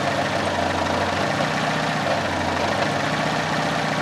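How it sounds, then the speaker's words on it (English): A Fiat Panda 4x4 Sisley engine idles steadily and loudly up close, its speed hunting slightly up and down in a continuous low drone with no voices. "You can see how much my engine hunts around."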